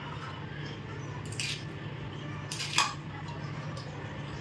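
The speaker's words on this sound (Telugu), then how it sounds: "ఇలాగైతే ముక్కలు కోసుకోవాలి" Knife cutting mixed vegetables into small pieces for homemade pickle, with a couple of faint clicks and scrapes over a steady low background hum.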